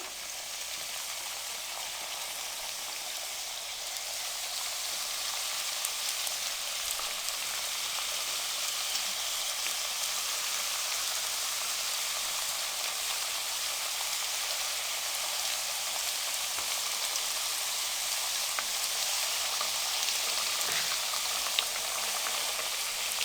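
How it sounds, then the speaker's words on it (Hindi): Namak paray, small pieces of fried dough, sizzling in hot cooking oil on a low flame: a dense, even crackling hiss that runs on steadily and close, with no voices. "अब इसमें हम ये फ्राई कर लेंगे। लो फ्लेम पे हम इनको फ्राई करेंगे।"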